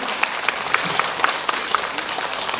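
Indoor audience applause for a guest at a seniors' summer health education session at a community welfare center, steady dense clapping throughout with a few sharper individual claps.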